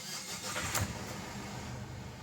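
A Ford Everest engine is cranked and restarted, a brief starter whir catching into a steady idle that continues alone at moderate level.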